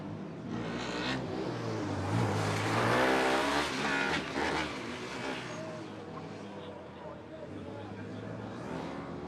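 A Formula Student race car on its final lap at Formula Student UK 2019, its engine droning and rising steadily at a moderate distance, with a commentator talking over it throughout.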